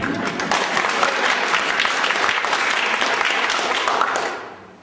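An audience claps for Melanie at a lecture event on confronting structures of domination, a steady dense round of applause sustained for several seconds before fading out at the end.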